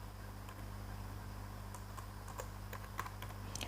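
Keys on a computer keyboard are tapped in a few quiet, scattered clicks over a faint steady hum, with no talking.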